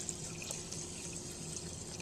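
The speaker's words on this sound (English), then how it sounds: "I should put water up to this marker right here." Tap water runs into a rice cooker pot holding rice for sushi, a quiet, steady trickle with faint drips and splashes, close by and without voices.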